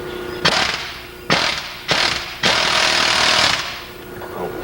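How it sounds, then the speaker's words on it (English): Air impact wrench removing a wheel bearing, firing in four loud, close hammering bursts, three short and the last one a sustained rattle of about a second, with a steady hum between them. "I use an air impact wrench, so the noise is probably going to be pretty bad."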